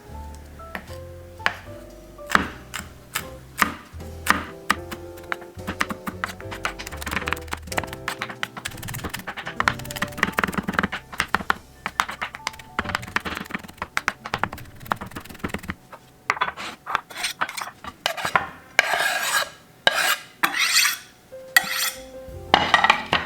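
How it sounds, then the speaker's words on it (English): Knife taps rapidly on a chopping board as onion and garlic are minced into tiny pieces, dozens of close, sharp, uneven strikes with brief pauses and occasional clinks of utensils. "Now it's time to cut it to tiny pieces."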